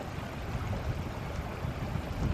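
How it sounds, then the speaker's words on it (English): Water at Binford Lake Park makes a soft, continuous rushing wash, heard close and fairly faint against outdoor air with some wind rumble on the microphone and no talk. "I wanted to just kind of sit here and listen to the water for a minute"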